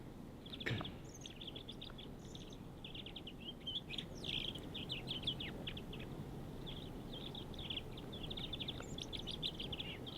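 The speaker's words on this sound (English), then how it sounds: "It's chirping with his throat." Close-up nuthatch chirping, rapid high notes repeating in short bursts for several seconds against a constant low background rumble, no voices.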